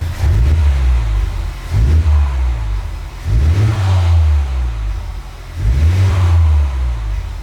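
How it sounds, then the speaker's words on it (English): A stock-exhaust Honda Civic Type R engine idles and gets blipped four times in regular succession. Each rev rises to a deep, muffled roar and falls back to a quiet idle between bursts. "I'll give you guys a couple revs here."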